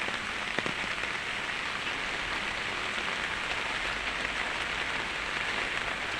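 Light rain falls outdoors in the late afternoon, spattering on an umbrella and nearby surfaces. It makes a steady, close, unbroken hiss of drops with no voices.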